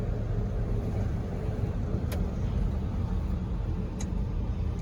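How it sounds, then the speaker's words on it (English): 1982 Chevrolet K10 square body farm truck on the move, a faint, steady low rumble with a couple of brief clicks over it. "This is Caleb's first drive in an old tractor truck."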